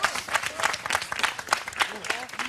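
A studio audience at a Normandy cooking show gives sustained, dense applause for a chef, with voices mixed in throughout.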